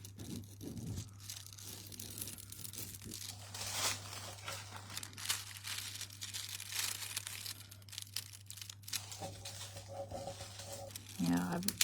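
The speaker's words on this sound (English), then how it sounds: "And then I'm just going to score it with my nail" Craft foil being scored with a fingernail during a card-making demo, a steady close crinkling and scratching that runs the length of the clip under ongoing talk.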